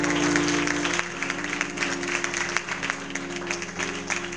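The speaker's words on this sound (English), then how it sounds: "Clap your hands and tell God yes." A church congregation at a Church of God in Christ service in Nacogdoches, Texas claps hands in a dense, continuous patter over sustained musical tones, fairly loud and filling the room.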